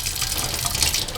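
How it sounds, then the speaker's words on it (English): Well water runs from a tap in a steady, loud gush with a broad hiss and low rumble, close and continuous with no talking. "I'm just going to turn on the water a little bit."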